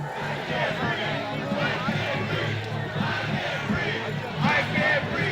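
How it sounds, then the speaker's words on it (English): A dense mob of rioters at the January 6th Capitol breach chants a slogan in unison, loud and close, with a rhythmic, pulsing roar of many voices over steady crowd noise throughout. "As the crowd sarcastically chants a Black Lives Matter slogan"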